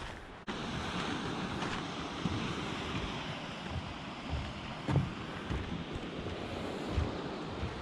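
Ocean surf and wind at Gibson Beach in Big Sur, a steady broad roar of waves with gusty wind buffeting the microphone and a few louder surges, and no voices.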